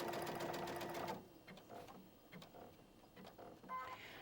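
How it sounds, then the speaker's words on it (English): A sewing machine stitching a decorative thread-painted flower, running loud and steady for about a second, then falling quieter with faint irregular needle taps and clicks. "Now as Karen stitches the second half of the stitch"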